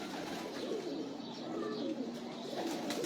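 Old-breed pigeons coo softly on a rooftop, a faint, low, continuous murmur of overlapping calls heard from a distance with a little background noise.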